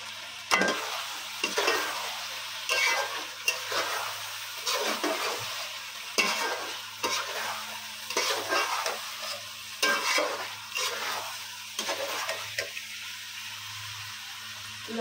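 Meat for biryani sizzles in a pan with black pepper, coriander and roasted cumin powder while it is stirred, giving close, moderately loud frying hiss with repeated scraping stir strokes at an uneven rhythm.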